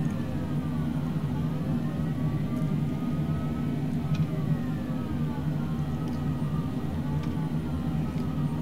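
Cessna Citation Longitude business jet taxiing toward the runway: a steady, even engine drone and low rumble hold throughout at constant loudness, with faint occasional clicks on top and no talk.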